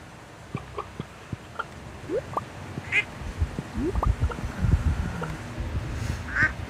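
Ducks in a farm coop in the video game Stardew Valley quack repeatedly, irregular short calls coming closer together and louder toward the end over a low ambient bed, with no voices.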